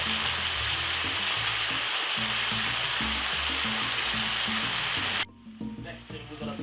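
Sliced mixed peppers and a medium carrot sizzle loudly in a hot stir-fry pan as they are stirred, a steady, dense frying hiss that cuts off abruptly near the end, leaving quieter clatter.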